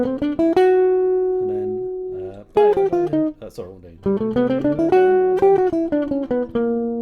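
Scale runs over a II V I with a bIII diminished chord come as clean picked melodic lines with some sustained notes and brief pauses, close and clear, with a short spoken aside in the middle.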